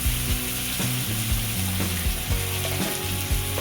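Peeled, chopped bottle gourd sizzles in a hot pan for a vegetable dish, a dense close frying hiss broken by repeated scraping and clattering strokes of stirring.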